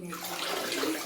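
Running water splashes steadily across a bathroom surface during cleaning, a close, continuous wash with no pause through the short stretch.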